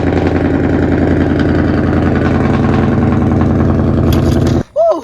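A motorcycle engine idles loudly and close with a steady throbbing pulse, then cuts out abruptly near the end, followed by a brief voice.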